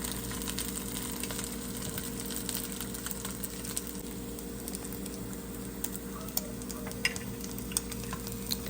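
A sandwich fries in a pan with chicken, giving a faint, steady sizzle underneath, broken by a few soft ticks and scrapes.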